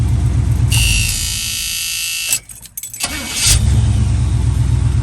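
A 1979 second-generation Camaro V8 fitted with a Holley four-barrel carburetor runs loud and close, its rumble dipping and stumbling briefly mid-clip before roaring back to a steady idle.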